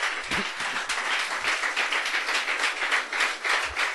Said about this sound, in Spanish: ¿Cuánto le da un aplauso al Señor, hermano?